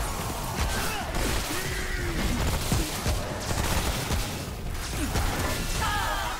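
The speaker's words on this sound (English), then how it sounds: "I got shot in the side." Gunfire and clattering combat noise in Remnant: From the Ashes, a dense continuous barrage with bursts and crashes over about six seconds, with speech faintly mixed in.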